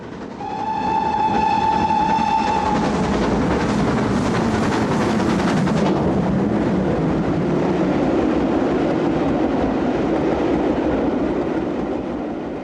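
A Great Western Railway Castle class steam locomotive gives a long whistle blast, then its train thunders past loudly and steadily, rumbling on as it continues.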